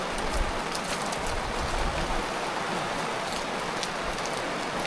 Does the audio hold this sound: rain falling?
yes